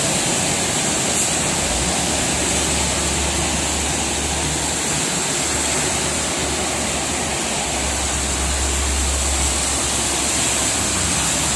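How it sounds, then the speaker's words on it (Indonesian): Heavy rain pours steadily on the Jakarta-Cikampek toll road, a dense, even hiss filling the whole clip, with a low vehicle engine rumble underneath and no talking. "Hujannya lumayan deras"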